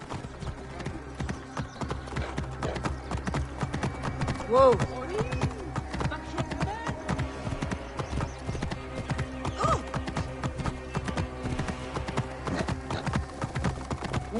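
Horse hooves clip-clop steadily in Assassin's Creed Origins set in ancient Egypt, a continuous fast rhythmic trot under game ambience, with a brief neigh and a rider's spoken call.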